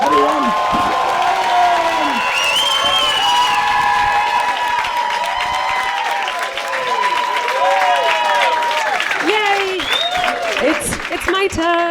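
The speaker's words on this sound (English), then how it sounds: "round of applause, everyone." Audience applause at a stand-up comedy heats show, loud and dense with scattered whoops and cheers, mixed with crowd noise and some voices throughout.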